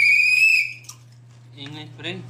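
A single sharp, shrill whistle blast sounds close and loud, followed by a short pause and then brief talking.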